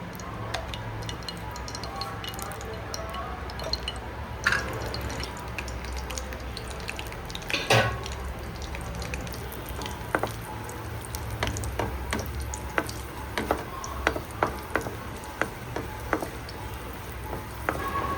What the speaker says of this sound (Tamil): நெய் ஊற்றி முந்திரி பருப்பு வறுத்துக்கிறோம்.